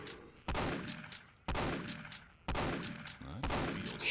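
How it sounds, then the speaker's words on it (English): Four loud shotgun blasts from Postal 2 land about a second apart, each a sharp crack that decays into a ringing tail, with game sound filling the gaps between them. "Shotguns. Not great for long-range damage."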